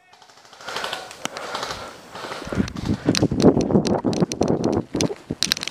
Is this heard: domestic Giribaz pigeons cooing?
no